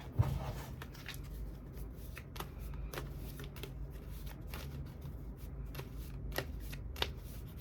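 Tarot cards being shuffled and handled up close, with soft continuous riffling and scattered sharp snaps as cards are drawn and laid down.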